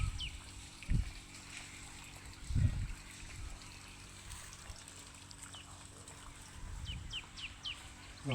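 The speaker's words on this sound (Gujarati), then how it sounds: "લેલી નામનું પક્ષી ગીત ગાય છે" Faint, scattered chirps and short calls of a babbler (lelī bird) from a distance over steady outdoor ambience, with a few dull low thumps.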